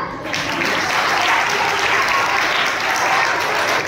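A crowd claps loudly and continuously at a school cultural program, dense applause filling the room without a break for several seconds.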